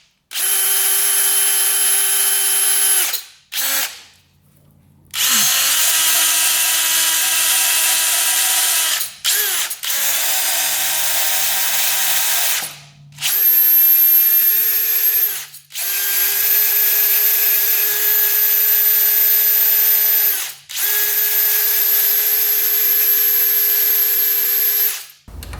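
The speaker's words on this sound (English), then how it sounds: "we're gonna take our drill, clean off all the leads here, and then the frame here, get that down to bare metal" An electric drill cleans the coil leads and frame of a Honda 400EX quad down to bare metal, a loud, close, steady high whine in long runs broken by short pauses.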